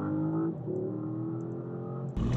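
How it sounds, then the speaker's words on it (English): A 2019 Porsche Panamera GTS engine revs steadily and builds as the car accelerates, a continuous close drone that shifts gear near the end. "here we'll do a little acceleration"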